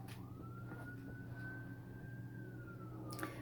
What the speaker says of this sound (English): There's a siren, so I'm not too sure if it's a fire truck.